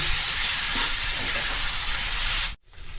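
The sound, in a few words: stir-frying Bombay duck fish mixture in pan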